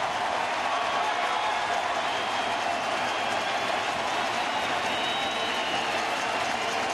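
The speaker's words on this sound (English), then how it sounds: "Crowd gets back in." Stadium crowd at a Red Sox at Tigers playoff baseball game in Detroit cheering with two outs: a dense, steady roar of thousands of voices, loud and unbroken throughout.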